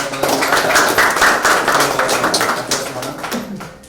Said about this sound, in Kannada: ಎಲ್ಲರೂ ಜೋರಾಗಿ ಅವರಿಗೆ ಚಪ್ಪಾಳೆ